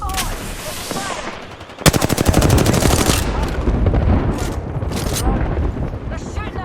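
Gunfire from Apex Legends crackles through a match, with a burst of rapid automatic shots followed by sustained firing and further volleys, loud and close, with a voice talking over parts of it.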